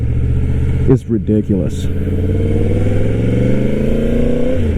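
A 1000cc motorcycle engine revs and pulls hard in first gear, a loud close roar climbing in pitch, briefly broken by a few sharp throttle blips, with someone talking excitedly over it.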